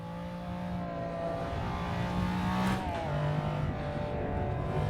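A McLaren F1 engine in Assetto Corsa on the Nordschleife, a steady droning hum with tonal engine whine that rises and falls through gear changes, sustained and moderately loud with no talking.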